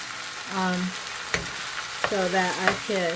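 Ground turkey sizzles and fries in a pan for tacos, a steady hiss with scraping stir strokes, close, while a person talks over it.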